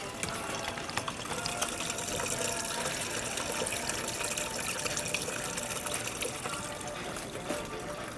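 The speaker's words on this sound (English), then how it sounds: "we're putting it into the fermenter here" Homebrewed double IPA wort pours steadily into a fermenter, a continuous splashing gush and trickle of liquid running for several seconds without pause.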